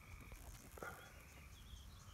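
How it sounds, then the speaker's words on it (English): A tree frog croaks outdoors, faint and somewhat distant, with a couple of short calls over a low background hum. "A tree frog in here somewhere."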